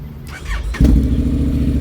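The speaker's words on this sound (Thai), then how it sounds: "สตาร์ทแช่เดียวติด ไม่ต้องมีบิดช่วยนะครับ" A brief starter whir, then a 2017 Honda X-ADV 750 scooter engine catches on the first try and settles into a steady low rumble.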